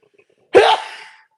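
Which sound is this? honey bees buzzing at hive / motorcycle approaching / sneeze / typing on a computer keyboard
sneeze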